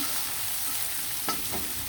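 Onions and onion paste with garam masala sizzle steadily in hot oil, a close, continuous frying hiss with a faint stir partway through.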